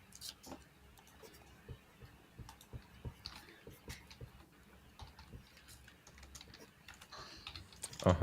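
Steady close typing on a computer keyboard, a quick run of soft clicks and taps continuing throughout with a little background noise.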